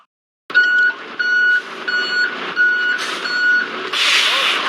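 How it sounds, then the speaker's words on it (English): A garbage truck backs up inside the You Don't Know Jack trivia game, sounding steady evenly spaced reversing beeps over a low engine rumble. A hiss of air brakes rises toward the end. "It's either a garbage truck backing up"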